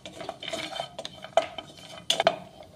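Cashew pieces roasting in a pan for dry fruit modak, stirred with a metal spoon that scrapes and clinks against the pan in irregular bursts, close and clear with no talk.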